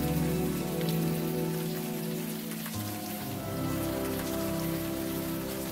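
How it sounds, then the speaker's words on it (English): Steady rain falls in the adventure video game Unavowed. It makes a dense, even hiss of drops on surfaces, heard alone with a low hum beneath that shifts partway through. "The rain isn't helping, that's for sure."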